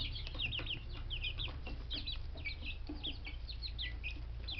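Chicks among Gold Star and Barred Rock chickens give a steady stream of soft, high peeping chirps over a low constant hum, fairly close and continuous throughout.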